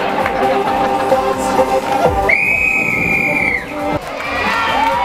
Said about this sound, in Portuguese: Pera, pera o apito! Ó, o apito!